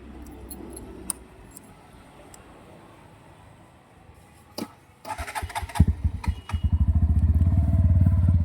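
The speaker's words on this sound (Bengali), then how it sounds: "আর আমি একবার বাইকটাকে অন" A 2025 Bajaj Pulsar NS125 motorcycle starts with a click and brief crank, then its engine catches into a steady, close idle; keys jangle faintly before start.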